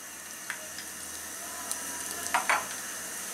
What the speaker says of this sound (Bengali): 5-6টা লবঙ্গ দিয়ে একটু নাড়াচাড়া করে নেব